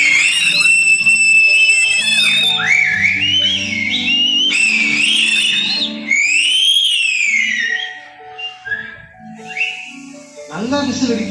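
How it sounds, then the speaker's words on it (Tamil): A person whistling loudly, a shrill, piercing run of high notes with rising and falling swoops that carries on for several seconds, getting choppier toward the end. "நல்லா விசில் அடிக்கிறியே, சூப்பர்."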